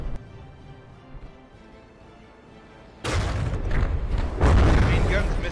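Heavy cannon fire from a warship in the From the Depths naval combat game: a sudden loud booming barrage that starts abruptly and keeps rumbling, with a second, even stronger blast partway through.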